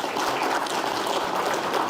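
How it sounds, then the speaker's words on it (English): A hall audience at the Sagarmatha Sambaad forum gives a keynote speaker a big hand: dense, steady clapping fills the room at a loud, even level with no voices over it. "I will request all of you for a big hand of applause to Dr."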